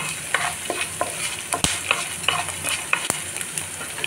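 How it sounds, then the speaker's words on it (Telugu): Coriander seeds and fenugreek fry lightly in a pan for gongura peanut chutney, a soft continuous sizzle broken by sharp scraping clicks of a spoon stirring at irregular intervals, close and alone without voices. "ధనియాలు మెంతులు వేసి లైట్గా ఫ్రై చేసుకున్నాము."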